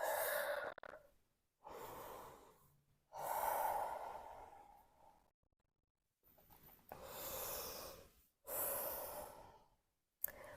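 Slow, audible breaths during a held yoga forward fold (Uttanasana) in a practice session, several long inhale-exhale cycles close to the mic, each swelling and fading with quiet gaps between.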